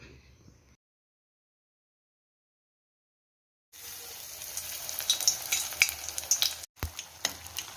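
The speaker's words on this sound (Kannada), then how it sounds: "ಈ ಹಿಟ್ಟಿನಲ್ಲಿ ಮೆಣಸಿನ್ಕಾಯಿ ಹಾಕಿ ನಾವು ಬಜೆ ಥರ ಇದನ್ನು ಫ್ರೈ ಮಾಡ್ಕೊಳ್ಬೇಕು" Batter-coated stuffed green chillies (mirchi bajji) deep-fry in oil. After a brief faint sound and a few seconds of silence, a close, dense bubbling sizzle starts and carries on with a few sharp clinks, with no talking.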